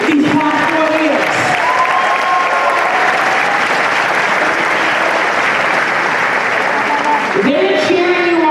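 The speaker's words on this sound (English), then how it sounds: "let us take this time to applaud your parents and family members who stood by you and believed in you these past 4 years" Sustained applause from a large audience fills a graduation commencement ceremony at Medford High School, steady and loud throughout with scattered cheers and voices rising within the clapping.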